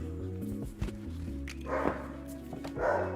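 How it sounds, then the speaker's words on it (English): Dogs barking in a home, several short woofs and yips at varying distances over a low background hum, with no talk. "My dogs are barking."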